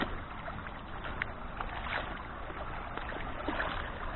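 Water trickles and splashes softly around feet wading through a shallow, leaf-strewn stream, faint irregular sloshes over a steady low flow, with no talking.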